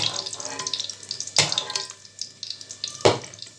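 Chopped onion and green chilli hitting hot oil in a pan, a steady crackling sizzle with a couple of sharper spits and pops, close and fairly quiet.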